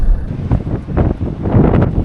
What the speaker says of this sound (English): it's super windy, so hopefully that's not distorting